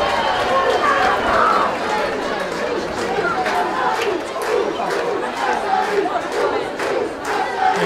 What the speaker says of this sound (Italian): Anche loro accompagnati da tanto tifo.